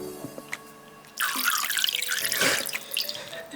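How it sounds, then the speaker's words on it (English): Liquid runs into water from a tap or a poured stream at a home science experiment, with a burst of splashing and gurgling that starts after a quiet stretch and tapers into dribbles. "Let's just put food colouring in water."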